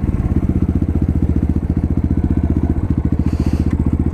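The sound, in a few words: Apollo 250cc dirt bike engine idling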